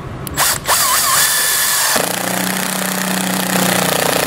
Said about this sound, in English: take one of my square head screws, and drive it up.